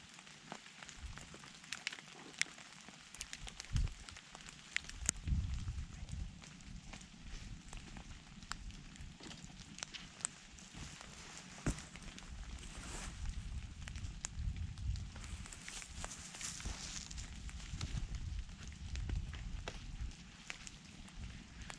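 A campfire burning in a forest at night during light rain, faint soft crackling and sharp pops over a low, steady hiss of drizzle, with no talk.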